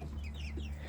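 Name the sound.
buff laced Polish rooster clucking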